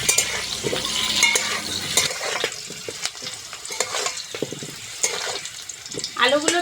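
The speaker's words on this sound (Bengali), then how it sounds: "আলুগুলো বেশ লাল লাল করে ভেজে নিয়েছি" Potatoes frying in a pan while being made into chicken pulao, a steady broadband sizzle with repeated scraping and stirring clatters from a utensil, close and fairly loud, no talking over it.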